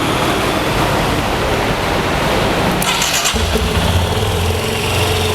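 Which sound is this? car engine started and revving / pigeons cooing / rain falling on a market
car engine started and revving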